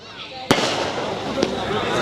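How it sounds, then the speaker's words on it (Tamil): Firecrackers burst at night, two sharp cracks about a second apart standing out over a continuous crackling, popping din, with voices mixed in beneath. "அப்புறம் டப்பு டப்புன்னு வடிக்குது"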